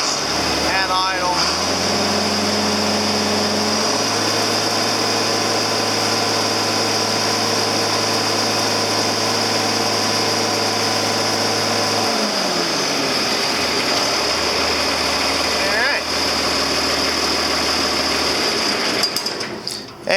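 A John Deere 4320 tractor engine idles steadily and close by, a constant low hum with a high whine on top, holding even for about twelve seconds before the note shifts and settles lower through the rest.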